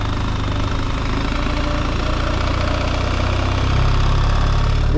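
A BMW R 1300 GS motorcycle engine running with its exhaust valves open, giving a loud, steady, throbbing rumble close by that swells slightly near the end, with no voices.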